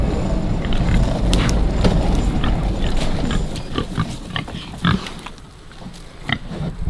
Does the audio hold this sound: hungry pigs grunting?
yes